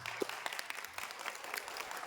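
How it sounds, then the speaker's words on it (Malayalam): An audience at an OVBS 2026 church community gathering claps together, producing a faint, steady patter of many scattered hand claps. "നമുക്ക് ഒന്നിച്ചൊന്ന് കൈയടിക്കാം"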